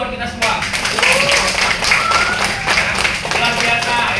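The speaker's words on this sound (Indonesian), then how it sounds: "Tepuk tangan dulu buat kita semua." A classroom group claps hands together in a steady, busy patter that starts abruptly and carries on at an even, fairly loud level, with voices mixed in underneath.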